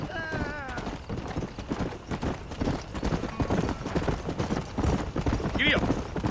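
Horse hooves galloping in the Red Dead Redemption video game, a steady clip-clop rhythm running under continuous dialogue and game music, with a brief whinny-like sound near the end.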